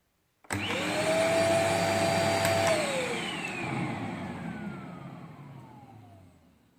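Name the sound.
electric vacuum cleaner running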